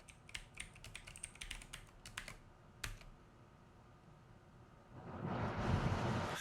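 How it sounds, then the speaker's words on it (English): A computer keyboard is tapped in quick runs of clicks as a password is entered during a Void Linux setup, close and fairly quiet, followed by a soft rush of background noise. "let's see if I can type my password correctly"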